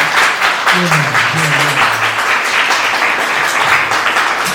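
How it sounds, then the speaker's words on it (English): A loud, dense round of audience applause rolls on steadily at an evening event, with a voice briefly audible beneath the clapping. "Can y'all give this sister a round of applause?"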